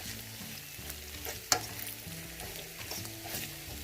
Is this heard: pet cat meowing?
no